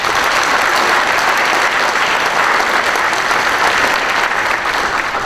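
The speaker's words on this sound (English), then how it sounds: "I have a round of applause for that committee" A large crowd at a police awards night bursts into sustained, loud applause, dense and even, with no pauses for its full length.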